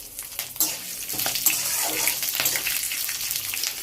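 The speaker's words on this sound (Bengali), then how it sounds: "তেলের মধ্যে ফ্রাই করতে হবে।" Mung dal with taro greens and chopped green chilli sizzling in hot oil in a pan, a steady close hiss with soft crackles and a few brief stirring clatters.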